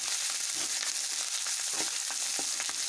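Peanuts fry in hot oil for rava upma, giving a continuous fizzing sizzle with occasional soft stirring clicks, close and fairly quiet, no voices.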